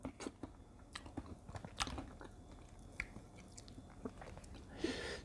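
Crisp bites and close, wet chewing of fried, batter-coated Monthong durian, a series of quiet crunches and mouth sounds spaced irregularly with no talk.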